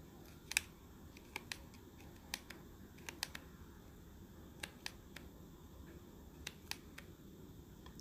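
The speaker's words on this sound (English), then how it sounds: "I'm going to cut on the dotted lines" Scissors snipping along the dotted perforation line of craft blade packaging, heard as a scattering of sharp, quiet clicks and snips at irregular intervals over a low steady room hum.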